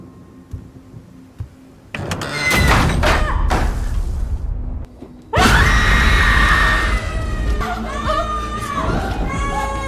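A child screams hysterically in a horror-story scene set in a haunted house: loud, piercing shrieks arrive in sudden bursts with thuds and commotion, growing louder and more frantic partway through.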